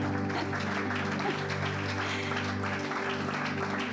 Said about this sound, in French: j'aimerais que nous puissions acclamer pour l'apôtre